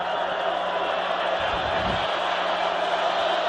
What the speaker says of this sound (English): that got this crowd back into it as they start to get revved up